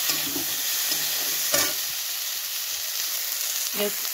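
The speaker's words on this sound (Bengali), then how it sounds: "এবার আমি একসাথে মশলার সাথে সবগুলো কষিয়ে নেব।" Cauliflower and green peas sizzle steadily with spices in a frying pan, a continuous close hiss with a couple of brief stirring scrapes and faint clinks.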